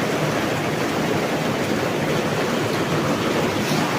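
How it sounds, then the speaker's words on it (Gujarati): A heavy rain downpour roars steadily and loudly throughout, a dense unbroken wash of noise with no voices. "એકદમ ધોધમાર વરસાદ આવે છે"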